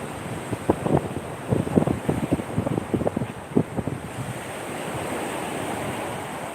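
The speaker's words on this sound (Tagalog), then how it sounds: "medyo maalon dahil may paparating na bagyo" Rough sea waves at the shore ahead of an approaching typhoon, a steady wash of surf with wind noise and a burst of choppy, splashing swells in the middle.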